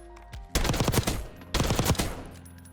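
Automatic gunfire at a firing range in the video game Black Ops 6: two loud, close bursts of rapid shots, each lasting about a second with a short pause between, and no talk.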